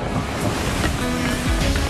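Ocean surf and wind-driven water wash continuously against the microphone, a loud rushing roar with gusty buffeting and no talk.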